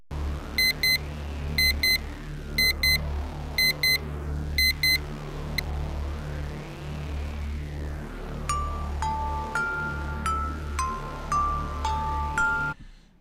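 A car's engine hums and surges in slow waves as it drives, with repeated electronic beeping chimes over it early on and a string of sharper tones near the end.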